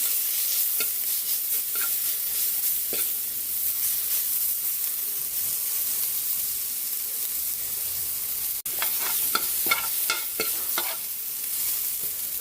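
Garlic and ginger sizzle steadily in a hot pan for a home-style Filipino dish, with occasional scraping stir strokes and a sharp clack near the middle, close and fairly loud with no talking.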